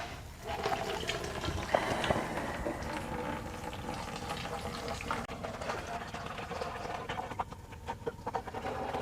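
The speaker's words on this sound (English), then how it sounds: "We're going to take this thing off the top, pour it all in." Distilled water pours from a gallon jug into a laser engraver's CW-5000/CW-5200 chiller tank, a continuous faint trickling gurgle with small splashes and knocks, close and quiet.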